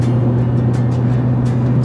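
A big truck drives up a mountain road, heard from inside the cab as a loud, steady low engine drone with no break.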